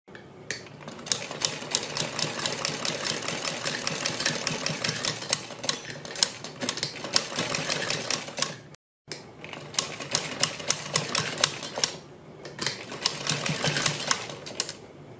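Sewing machine stitching a line along a marked neckline on fabric, a rapid steady mechanical rattle running continuously close by, with one brief pause partway through.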